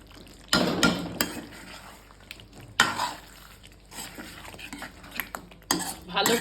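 Kashmiri alur dom being stirred in a pan with ghee and homemade garam masala, a spoon clinking and scraping against the metal in close, uneven bursts with short pauses between strokes.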